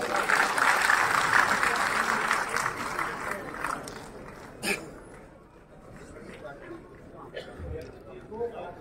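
An audience applauds at an Uttar Bhartiya Samaj community event in Thane district: a dense, loud wash of clapping that gradually thins and fades, with voices and crowd murmur underneath.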